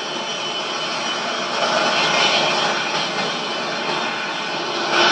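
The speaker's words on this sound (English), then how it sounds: "Jet noise." A steady, loud jet engine roar from a BAe 146 airliner with broadband hiss, swelling slightly midway and again at the end, with no voices.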